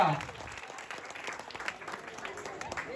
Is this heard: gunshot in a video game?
no